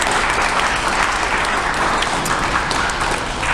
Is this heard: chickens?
no